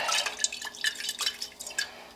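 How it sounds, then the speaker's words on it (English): Water poured into a crock pot holding salsa verde for chicken burritos, heard as a run of soft dripping and splashing bursts, close and fairly quiet, with no talking. "Add a little bit of water to it."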